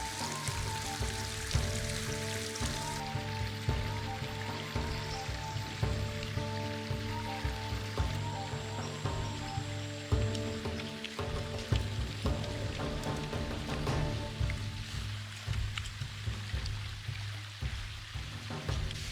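Steady rain falling in a forest, a constant dense hiss with scattered drips and patters, continuous and fairly close throughout.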